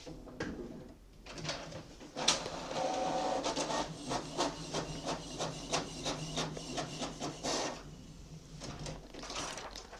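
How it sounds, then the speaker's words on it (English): A Canon Pixma TR8620a inkjet printer prints a page, giving a steady mechanical whir and a rapid series of clicks and clacks from the feed and print head, close and continuous, with no talking. "We just printed something from our PC."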